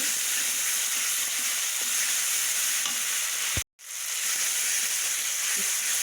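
Mustard fish masala with turmeric for rohu sizzles loudly and steadily in a pan while a spoon stirs through it, close up, with a brief gap of near silence partway.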